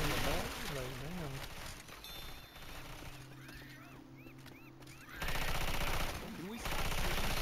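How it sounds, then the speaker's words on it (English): Rapid gunfire rattles in bursts while shooting zombies in the modded Left 4 Dead 2 finale, mixed with game effects, shattering and warbling tones, and someone talks over the action. "Are these AIs gonna shoot the damn armored zombie in the back?"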